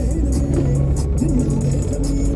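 A Maruti 800 car engine drones steadily from inside the car while driving, a low rumble with faint whirring and a slight rise in pitch as gears change, with no talk.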